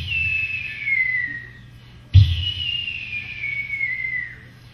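A person whistles a close imitation of a red-tailed hawk call: two long, loud, descending screeching whistles, each sliding downward and fading, separated by a short break.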